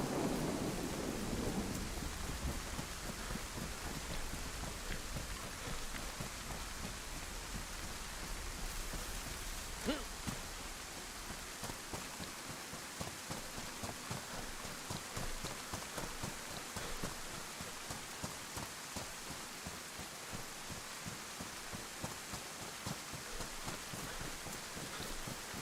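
A thunderstorm in the survival game DayZ brings steady heavy rain and a dense wash of hiss, while thunder rumbles now and then underneath throughout.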